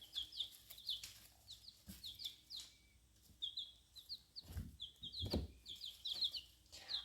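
Chickens clucking and calling in repeated bursts throughout, fairly close, with rustling and a few low thumps from bags being checked; no speech.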